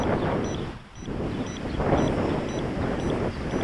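Outdoor wind of about 10 to 15 mph buffeting a microphone on a windy day while a small Eachine H8 Mini drone flies, a loud steady low rumble that dips briefly before surging again.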